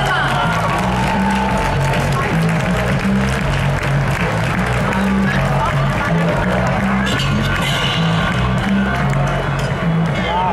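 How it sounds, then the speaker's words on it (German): Loud, sustained applause and cheering from the crowd at the Miss Germany 2017 final as contestant number 16 is congratulated, with whoops over steady clapping and background music. "Und da geht der Glückwunsch und der Applaus an die Startnummer"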